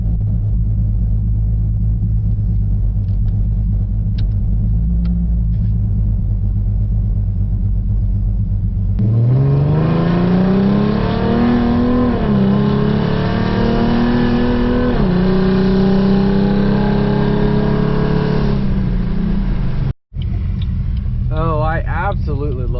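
A 4.0 V6 Ford Mustang with dual Cherry Bomb glasspack mufflers idles with a deep, loping rumble, then revs hard for about ten seconds, rising and falling, before settling back to idle; close and loud, recorded at night.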